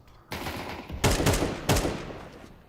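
AK rifle gunfire in a Counter-Strike match at a pro esports tournament, several short bursts of rapid shots at moderate volume over game ambience, with no talk.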